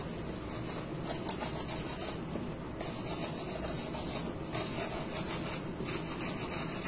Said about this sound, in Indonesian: Kita gosok sampai bersih.